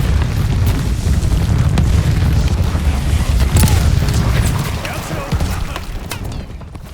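Deep rumbling booms and bursts roll on continuously, explosions in Call of Duty: Vanguard, with crackling debris and a low sustained roar fading toward the end.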